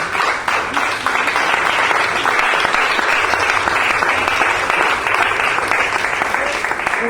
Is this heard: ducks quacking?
no